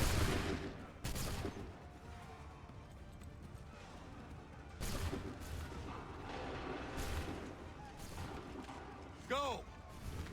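Volleys of musket fire from soldiers in Assassin's Creed III, several loud broadband cracks spaced a few seconds apart, with rumbling battle noise and a horse whinny near the end, under shouted commands.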